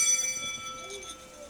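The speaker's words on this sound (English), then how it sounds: "Class bell rings, disrupting the moment and snapping everyone back to reality." A school class bell rings in a classroom, its steady high tone holding throughout at moderate loudness with faint murmuring underneath.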